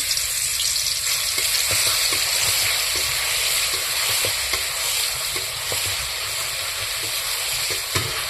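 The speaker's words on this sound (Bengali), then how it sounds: "এবার দিয়ে দিচ্ছি রসুন বাটা," Garlic paste fries in a pan for chickpea and pea ghugni, giving a loud, steady sizzle throughout with intermittent clicks from stirring.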